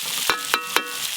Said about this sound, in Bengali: এদিকে আলু বরবটি ভাজা হয়ে এসছে